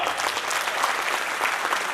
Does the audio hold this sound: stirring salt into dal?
no